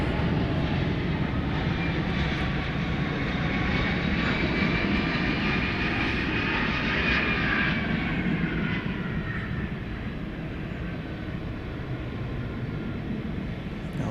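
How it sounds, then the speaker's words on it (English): A FedEx MD-11 jet rumbles steadily past at night at DFW Airport, a loud continuous engine roar with a slowly sweeping whine that gently fades toward the end, heard alone. "MD-11, FedEx MD-11"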